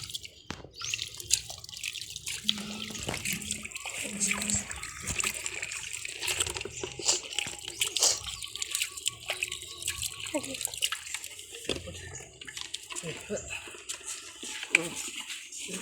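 Outdoors, water drips and splashes in close, irregular spatters for a sustained stretch, with people talking over it at times.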